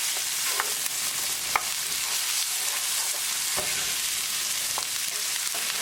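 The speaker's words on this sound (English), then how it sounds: "We're going to cook ginger garlic until the raw garlicky flavor is gone." Ginger, garlic and onion stir-frying in a pan, with a steady bright sizzle and occasional sharp clicks of a utensil scraping and stirring, close and alone without talk.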